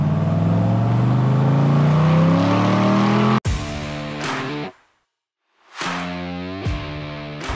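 A warmed-up 1967 Corvette convertible engine revving hard, a loud rough roar that cuts off abruptly, then sharp blips and a brief silence before it roars back, close and alone.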